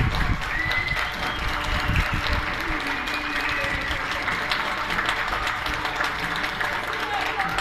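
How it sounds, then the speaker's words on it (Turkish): Children clapping at a 23 Nisan national sovereignty and children's day celebration on a neighborhood street, a steady dense applause sustained throughout with crowd noise and voices mixed in. "Alkış alkış bir ön, ön tempo bir alkış istiyorum."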